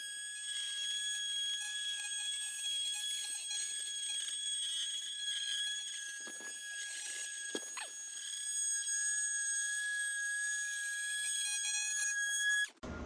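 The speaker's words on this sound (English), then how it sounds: "we'll just go ahead and cut those grout lines and hopefully make quick work of it." A Milwaukee M18 Fuel oscillating multi-tool cuts grout lines in a kitchen backsplash, giving a steady, loud, high-pitched whine that runs without a break and stops abruptly at the end, with no talking.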